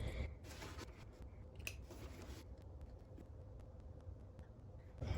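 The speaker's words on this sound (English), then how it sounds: "So I'm just going to snip into these corners." Scissors snip into the fabric corners of a sewn bag, giving faint, close, irregular clicks and crisp cuts in a quiet room.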